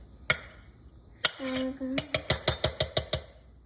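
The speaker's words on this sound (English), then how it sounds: "I'm gonna mix it all together so that all the powdered sugar and the butter are well combined" A spoon mixing powdered sugar and butter in a bowl for eggless chocolate chip cookies, a few scattered clinks followed by a quick run of about nine evenly spaced taps against the bowl, close and fairly quiet.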